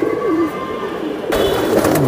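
Pigeons on a pigeon farm selling racing Giribaz pigeons coo softly and repeatedly nearby, with a burst of rustling or wing noise partway through and faint background sounds around them.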